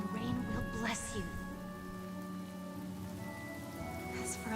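Rain falls steadily in the video game Honkai Star Rail, a soft continuous patter under a voice speaking throughout.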